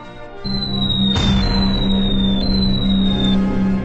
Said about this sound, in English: Bombardier Marco Arnaldo sets his sights and releases the bombs